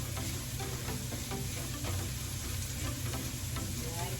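Onions sautéing in a pan until light brown, a steady close crackling sizzle with stirring scrapes throughout, no talking.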